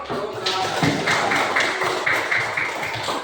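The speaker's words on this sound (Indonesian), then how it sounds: "Tepuk tangan dulu." Classroom of students applauding a group during a Pancasila lesson, a dense, steady patter of many hands clapping together at close range, filling the whole stretch without pause.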